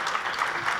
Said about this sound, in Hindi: आइए हम जोरदार तालियों से श्री मयूख दत्ता जी को यहाँ इनवाइट करेंगे.